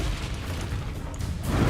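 Confringo blasting curse from Hogwarts Legacy erupts as a loud, broad explosive burst with rumbling low-end and crackle, swelling again toward the end amid combat noise, no talk.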